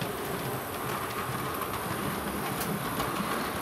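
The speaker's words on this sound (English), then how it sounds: "So I'm really happy today to get up and running with locomotives." A model locomotive runs on a layout track, giving a steady, close whirring hum with faint rhythmic rail clicks throughout, alone and unbroken.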